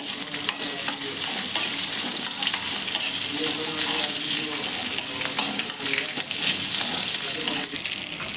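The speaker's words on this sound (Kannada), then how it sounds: "ಬೆಳ್ಳುಳ್ಳಿ, ಇಷ್ಟನ್ನು ಹಾಕ್ಕೊಂಡು ಸ್ವಲ್ಪ ಫ್ರೈ ಮಾಡ್ಕೋಬೇಕು." Garlic frying in a pan gives a dense, steady sizzle with scraping stir noises throughout, loud and close, with no talking.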